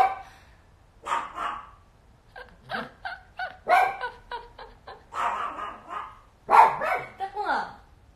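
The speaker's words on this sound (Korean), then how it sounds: "애들이 짖어요." Dogs barking indoors at home, a series of close, sharp barks in uneven bursts separated by short pauses, some clustered quickly together, without talking.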